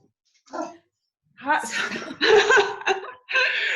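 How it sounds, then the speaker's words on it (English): A dog barks in short, sharp bursts at close range, several barks in a row with brief pauses between them. "I'm just going to lift up this one dog who's barking."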